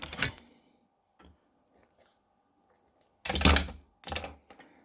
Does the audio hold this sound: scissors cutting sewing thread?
yes